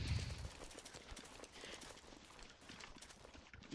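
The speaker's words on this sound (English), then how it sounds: "I hear footsteps" Footsteps clip-clopping in a quick, steady rhythm, fairly faint, with scattered clatter and background noise and no clear speech.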